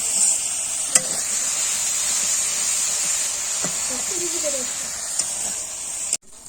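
Masala spices sautéed and stirred in a pan, a steady close sizzle with a few sharp scrapes of the spoon against the metal, running continuously until it cuts off abruptly near the end.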